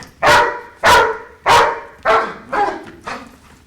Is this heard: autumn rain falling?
no